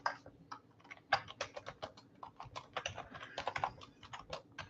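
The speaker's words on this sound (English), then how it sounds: "I'm going to type this out." Rapid, steady typing on a computer keyboard during a live stream, a dense run of close, crisp key clicks with no talking.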